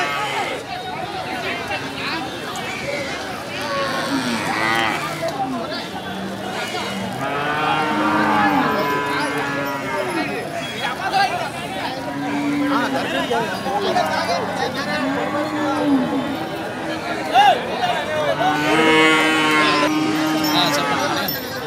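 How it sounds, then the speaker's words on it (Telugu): Many cows and buffaloes moo repeatedly at a busy village cattle market in Alamanda, calls overlapping near and far above a steady crowd babble of voices. "కొత్త కొత్త ఆవులు గట్రా వస్తున్నాయి."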